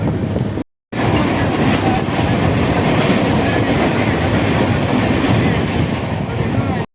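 A train rumbles loudly and steadily along the tracks, with a continuous roar of wheels and carriages and a brief cut near the start.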